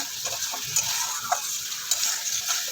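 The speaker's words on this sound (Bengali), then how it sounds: "এইভাবে অনবরত মশলাটাকে নাড়িয়ে চাড়িয়ে একদম শুকনো শুকনো করে কষিয়ে নিতে হবে" Spice masala for a Bengali cauliflower and potato curry is stirred and fried in oil, producing a close, continuous hiss and sizzle with soft scraping taps from the stirring and no speech.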